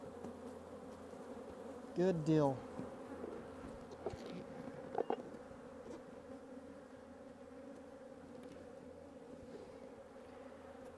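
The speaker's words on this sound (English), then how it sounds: "that's a box of bees too." Bees hum densely inside a beekeeper's box, a continuous close buzz with a couple of louder swells as the box is handled, while someone speaks briefly.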